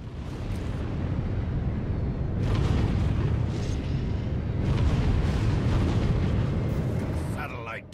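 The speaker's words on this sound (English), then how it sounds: "Target ship launching missiles." Missiles launching at a target ship in Galactic Starfighter, a sustained roaring whoosh and rumble that swells twice, loud and close, with a brief sharper burst at the end.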